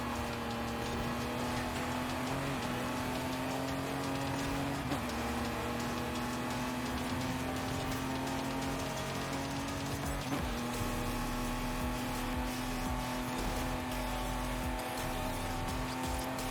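A racing car's engine hums steadily in Forza Horizon 5, a sustained tone with brief pitch dips at a couple of gear shifts as an AI car pulls away.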